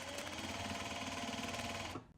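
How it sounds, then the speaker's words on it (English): A sewing machine top-stitching fabric runs at steady speed with a dense, even mechanical whir and needle rhythm, close and loud, then stops abruptly near the end. "we'll go in and we'll top stitch all of this first."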